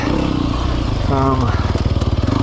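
A 2020 Sherco 300 SEF Factory four-stroke dirt bike engine chugs loudly up close, pulsing and revving, with a rider's voice briefly mixed in.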